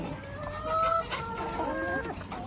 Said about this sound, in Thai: ไก่ไข่